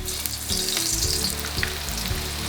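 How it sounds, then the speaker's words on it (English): Steady oil sizzle and crackle from aubergine frying in a pan close by, with soft low thumps and scraping underneath. "and then you can fry it."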